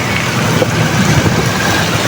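Heavy rain drums steadily on a tarp covering a passenger tricycle, a loud, continuous hiss and patter with no break and no talking.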